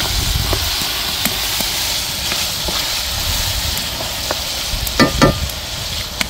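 Ginger, garlic, mutton and salt frying in a pot for curry, a steady sizzling hiss with scraping stirs and a few sharper clanks near the end, no talking.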